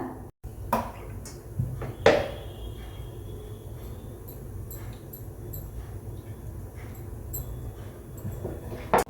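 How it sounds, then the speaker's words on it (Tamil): A frying pan is set on a stove to heat oil for tempering for a potato chilli 65 fry, with a couple of clear metallic clanks near the start over a low kitchen hum, no talk. "இப்போ அடுப்பில் மீண்டும் பேன் வச்சுக்கலாம்"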